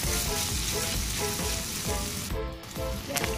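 Adobo sizzles steadily in a frying pan while being stirred, with a continuous crackling fry and soft scraping of the spoon running close and loud throughout.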